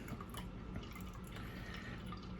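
Old bottled water is poured for sourdough, a faint, steady trickle and splash with a few small drips, heard alone at low level.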